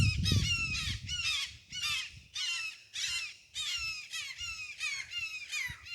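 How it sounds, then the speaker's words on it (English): A hawk calls outdoors in a steady series of about nine harsh, descending screams, fairly close and clear, with a brief low rumble of handling noise at the start. "Oh, there's a hawk."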